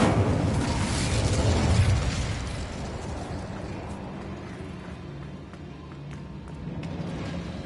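A fiery Incendio spell blast from a Harry Potter video game, a loud roaring burst at the start that fades into a low crackling rumble, with no talk over it.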